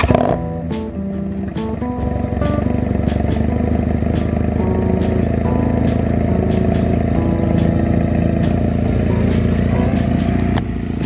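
A straight-piped Honda Rebel 250 custom bobber engine rumbles loudly and steadily throughout, a deep throbbing idle with sharp ticking transients, close to the microphone with no voices.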